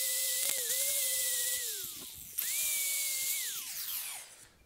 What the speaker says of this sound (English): You're gonna wanna then grind this off smooth.